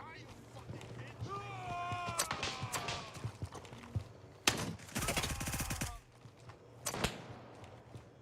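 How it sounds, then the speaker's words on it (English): Close gunfire in the game Gray Zone Warfare, bursts of rapid shots and single sharp cracks crowding together over several seconds, with voices talking between and over the shooting. "They're shooting close by."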